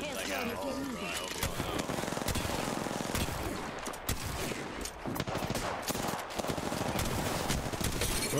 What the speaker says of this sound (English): who's shooting me from the side, bro?